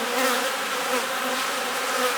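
Honey bees crowd around a captured queen inside a hive box, a steady, close, dense buzzing hum with no voices.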